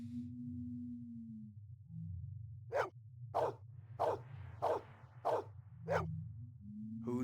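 Pet dog Maggie barks in a series of about seven sharp, evenly spaced barks, close and fairly loud, over a steady low hum.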